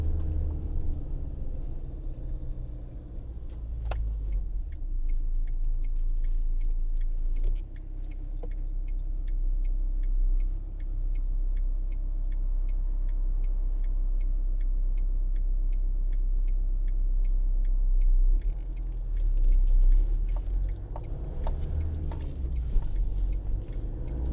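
A 2012 Ford Transit 2.2 TDCi 260 medium-roof van pulls uphill with no pedal input, giving a steady low engine rumble and cabin drone throughout, with a faint regular ticking running through the middle stretch.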